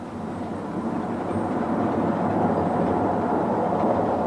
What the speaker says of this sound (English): this terminating train crosses over to the right-hand track